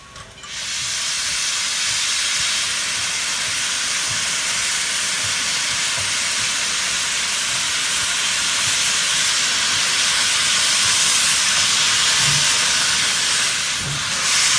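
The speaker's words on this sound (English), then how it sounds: "he makes a loud and big cloud of steam on departure from Midway Station" Loud, continuous roar of venting steam from a steam locomotive departing Midway Station at Heritage Park, starting abruptly and holding steady for a long stretch, with faint low chuffing beneath.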